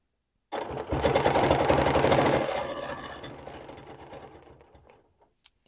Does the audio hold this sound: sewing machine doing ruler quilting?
yes